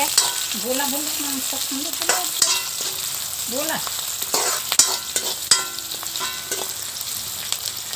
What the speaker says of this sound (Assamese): তাৰপিছত এইটো পিঁয়াজটো দি দিম পিঁয়াজটো অলপ সিজিব দিম